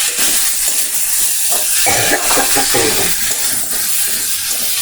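Sweet pumpkin pieces fry in a pan while being stirred, a loud continuous sizzle and hiss with repeated scraping strokes of the spatula close by.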